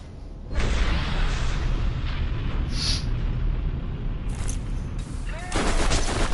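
Dense, continuous bursts of grenade explosions and booming gunfire from the Borderlands video game, loud and overlapping with a heavier surge in the final second and no clear talk over them.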